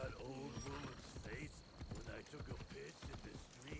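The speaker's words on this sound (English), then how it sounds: "It's probably not a good idea to ride a horse through, but we'll try it anyway." Horse hooves clip-clop through a city street in Assassin's Creed Shadows, a steady rhythmic patter heard under continuous talking.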